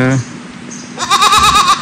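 Young goat kids bleat in a quick wavering burst close by, loud and overlapping, after a short earlier cry, while someone speaks over the noise on a farm.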